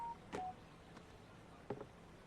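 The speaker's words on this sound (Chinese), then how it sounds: "还是我打电话和他联系吧。" Telephone keypad tones sound faintly as a phone number is dialed, a few short separated beeps spread over a couple of seconds against quiet background hiss.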